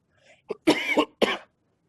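A few sharp coughs close up, a short one followed by two harsher bursts, then silence.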